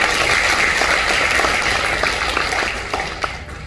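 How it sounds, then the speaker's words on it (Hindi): Audience applause at a business seminar, dense, loud clapping from a large room that holds steady, then thins and fades toward the end. "ताली बजाइए।"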